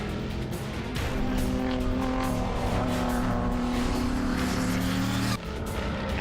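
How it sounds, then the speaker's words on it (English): Race car engines, including a Corvette and a G35, roar steadily at close range, a sustained high-revving drone with shifting pitch as cars push through turn 1, with a brief dip near the end. "and it looks to be Paul Brown as he goes into turn 1 in the K&N G35."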